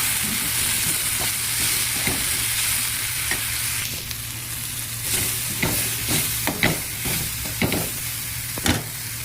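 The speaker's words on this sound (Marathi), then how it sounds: "माझा घरगुती मसाला, हळद आणि मीठ आता छानपैकी परतून घेऊया." Onion, tomato, homemade masala, turmeric and salt stir-fry in a pan with a steady close sizzle. Frequent sharp scrapes and clicks of a spoon against the pan sound through it in an uneven rhythm, with no speech.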